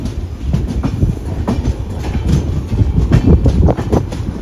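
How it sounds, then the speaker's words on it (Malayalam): Ganganagar Express running, heard from inside the S3 sleeper coach: steady loud rumble of wheels on rail with rhythmic clatter, no voices. "ഞാനിപ്പോൾ വന്നിരിക്കുന്നത് നമ്മുടെ ഗംഗാനഗർ എക്സ്പ്രസിൻ്റെ S3 കോച്ചിലാണ്."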